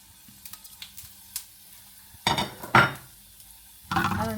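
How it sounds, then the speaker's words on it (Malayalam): Spices dropped into hot oil for a Kottayam-style kappa biriyani masala, giving short bursts of sizzling and stirring with faint utensil clinks between quieter pauses, with no talking. "എണ്ണ ചൂടാകുമ്പോഴത്തേക്കും നമുക്ക് അതിനകത്തോട്ട് സ്പൈസസ് ഇടണം"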